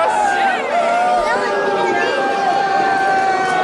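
Crowd at a live wrestling show reacting to wrestler Ricky, a steady babble of chatter and shouts with a voice talking over it throughout.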